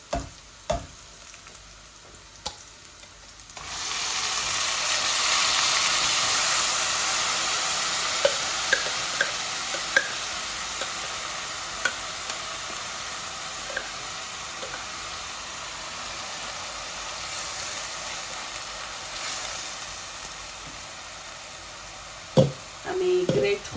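Onion fried in a pot for a Bangladeshi dish of kochur loti, mukhi and dried fish, hissing loudly at steady strength after a quiet start, with occasional stirring knocks and clinks, and no talk.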